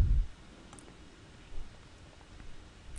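A single soft computer mouse click on a Kali Linux desktop, faint and brief against quiet room noise.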